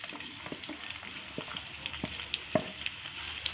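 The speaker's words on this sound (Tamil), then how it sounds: "இப்போ வெங்காயத்தை போட்டுக்கலாம்." Sliced onions sizzling in hot sesame oil for egg masala, a continuous soft frying hiss with occasional pops and stirring scrapes, fairly quiet and close.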